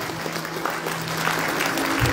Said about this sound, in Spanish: Brindémosle los aplausos a Miguel Ángel Bautista Miranda